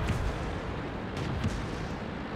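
Tank cannon fire in World of Tanks, a T49 tank destroyer on a test server: a dense, continuous low rumble of booming gunfire and battle noise, loud and sustained with a few sharper bursts, no talk.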